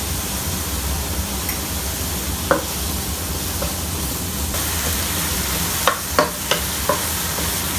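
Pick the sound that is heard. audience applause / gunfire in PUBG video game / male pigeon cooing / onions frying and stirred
onions frying and stirred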